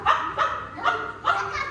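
A cartoon dog barks four times in quick, evenly spaced yaps, bright and close, during an animated story about friends sharing a ball.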